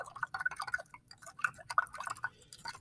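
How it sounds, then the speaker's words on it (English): A teaspoon stirs a spoonful of water in a glass for a kitchen-science demo, giving quiet rhythmic clinks and taps against the side, close and faint with brief pauses. "And I'm going to stir up with the water."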